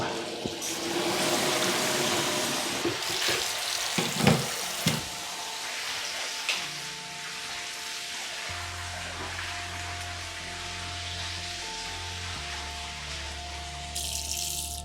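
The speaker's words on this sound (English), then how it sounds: "The hot water that comes out of here, out of the tub" Hot water runs steadily from a bathtub tap in a home, a broad continuous hiss and splash that holds a fairly even level throughout, with a few brief knocks and a low hum joining partway.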